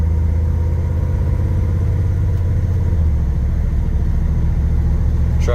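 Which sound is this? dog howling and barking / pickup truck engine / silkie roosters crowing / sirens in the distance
pickup truck engine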